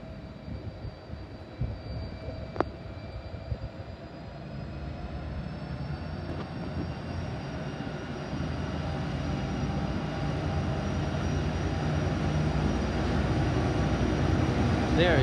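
A TT class freight train hauling limestone approaches and passes, its engine drone and rumble building steadily from moderate to loud and holding steady toward the end, with a faint high whine above the noise.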